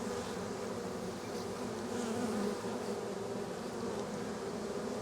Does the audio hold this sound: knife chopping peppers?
no